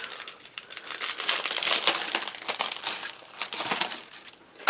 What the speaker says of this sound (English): So I'm going to start by taking these out of the package and cutting them apart.